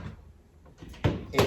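A door rigged with a door anchor for home-gym workouts swings shut, giving two close, solid thumps near the end with softer handling sounds before them.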